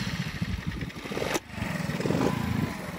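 A motorcycle engine is started without throttle and runs in a rough, rumbling idle close by, with a brief dip partway through before it settles into a steady chug.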